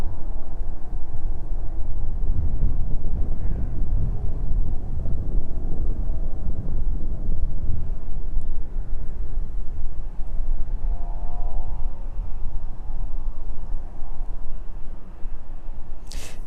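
Strong, gusty wind buffets the microphone at East Midlands Airport, a loud, continuous low roar that swells and eases throughout, with no speech.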